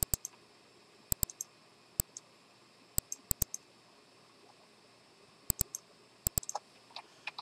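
Sharp, close computer mouse clicks, including right clicks, in scattered pairs and singles against near silence, some quicker double clicks, with faint softer clicks near the end.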